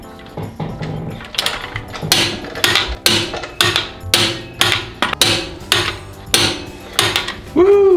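Wheel bolts on a 2017 Mini John Cooper Works being torqued: a run of sharp, loud metallic clicks and knocks in uneven rhythm, close by, ending in a brief ringing tone.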